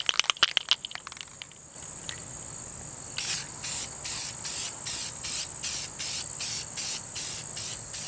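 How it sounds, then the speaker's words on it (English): A Rust-Oleum matte clear coat spray can is shaken with a few rattling clicks, then sprays in a steady series of short hissing bursts, close and even in rhythm, over a constant high background whine. "Now I'm going to clear coat it. I like to use this Rust-Oleum matte clear coat."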